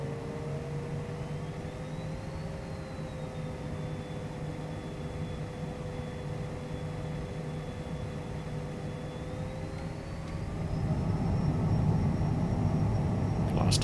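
A Cessna Citation CJ4 business jet in Microsoft Flight Simulator spools up on the runway at Vienna for takeoff, a steady whining engine hum with a tone that rises and swells louder near the end.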